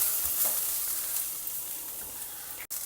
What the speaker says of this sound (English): Saute all these for a few minutes till the onions become